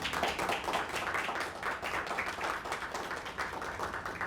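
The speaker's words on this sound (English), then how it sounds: "Please join me in giving him a warm round of applause and a warm welcome back to the Eagle Nest." A university crowd at a press conference for Dr. Louis "Skip" Perkins claps steadily, with dense applause of many hands at moderate distance continuing throughout.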